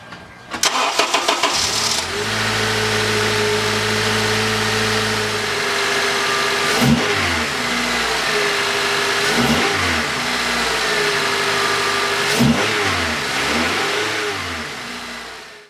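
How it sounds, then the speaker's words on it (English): A CU2 Acura TSX with a newly installed throttle body spacer cranks and starts, settles into a steady close idle, then revs sharply three times at roughly even intervals before dropping back to idle. "now we're going to fire up the car and see how this goes"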